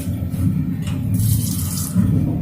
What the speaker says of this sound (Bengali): এতে জল যদিও পড়ছে